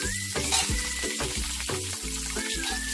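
Ginger and red onion sizzling in a pan for a Filipino fish tinola, a steady close fry with intermittent low scraping stir strokes and a faint tonal whine, no voices.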